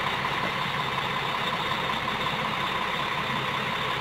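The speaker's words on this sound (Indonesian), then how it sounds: "Jadi ini tipe busnya itu dengan mesin sasis OC500 RF 1836 Mercedes-Benz dengan karoseri AD Putra." A Mercedes-Benz OC500 RF 1836 bus chassis with AD Putra bodywork idles at a steady, even rumble, running alone without speech, the engine note holding constant throughout.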